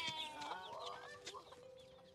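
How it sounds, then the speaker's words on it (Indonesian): Chickens cluck and squawk in a quick, busy series of calls, fairly faint and with no one speaking. "Doni mengajak Ryan untuk menangkap ayam."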